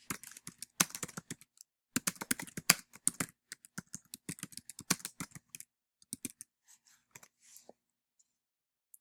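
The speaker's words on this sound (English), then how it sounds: "and I'm going to type it in again" Typing on a computer keyboard, quick bursts of sharp clicking keystrokes in uneven clusters with short pauses, close and fairly quiet, thinning out toward the end.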